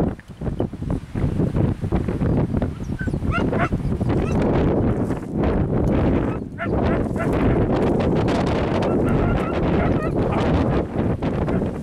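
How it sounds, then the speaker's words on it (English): Strong wind gusting across open Texas country, buffeting the microphone with a loud, continuous roar that surges and dips throughout. "Open, windy."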